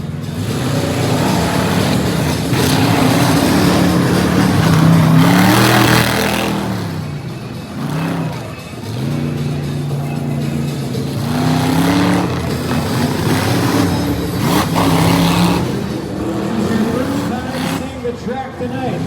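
Race cars at the Outlaw Nationals in Springfield tear around a track, with loud sustained engine roar and revving that rises and falls as they drift through corners toward the finish, while an announcer talks over the noise.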